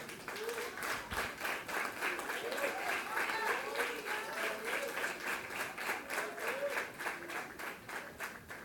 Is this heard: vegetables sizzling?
no